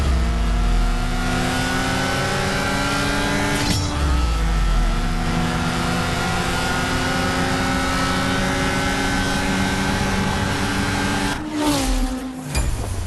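Car engines roar and rev hard during a CSR Racing race start, a loud sustained drone with rising pitch through gear changes and a brief dip near the end, with no talk.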